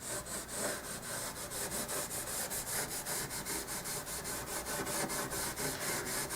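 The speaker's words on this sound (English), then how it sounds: "Now we're going to hit this with a little bit of polishing compound," Steady back-and-forth rubbing as polishing compound is worked into the finish of a 34-year-old Martin HD-28 acoustic guitar, a rhythmic, close scrubbing that continues evenly throughout with no talk.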